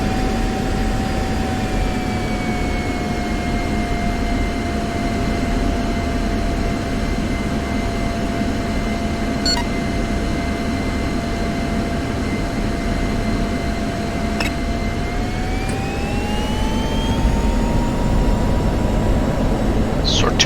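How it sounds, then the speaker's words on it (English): Jet aircraft engine in the DCS combat flight simulator during the takeoff roll, a steady loud roar with a whining tone that climbs as thrust builds near the end. "Sword 2-1, you are cleared for takeoff on runway 28"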